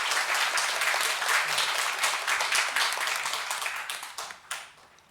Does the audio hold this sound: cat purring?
no